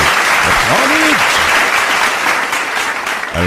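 An audience breaks into steady, loud applause that fills the room, with a brief voice rising over the clapping early on before the sound tapers slightly toward the end.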